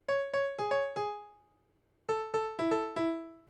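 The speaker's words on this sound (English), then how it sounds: "If you just hear it with only the grand piano," Solo grand piano line from a music track: two short phrases of plucked-bright notes, each struck note ringing and decaying, separated by a brief pause, quiet and alone.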